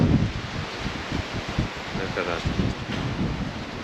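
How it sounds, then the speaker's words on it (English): Strong wind blowing during a Nordfjord excursion in Norway, a loud continuous rumbling rush of gusts hitting the microphone, with a voice faintly heard beneath it. "Oh, it's very windy now."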